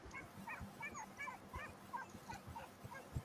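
Four-month-old puppies bark and yip during boar hunting training, in rapid, irregular high-pitched bursts with whimpers between them, heard faintly from some distance.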